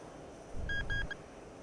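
Angle-of-attack warning in the DCS Mirage F1CE flight simulator: three short, clear tonal beeps in quick succession, fairly close, over low engine rumble, with no talk.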